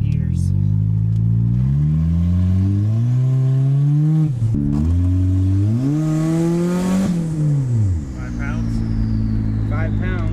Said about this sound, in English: You hear that turbo wind down?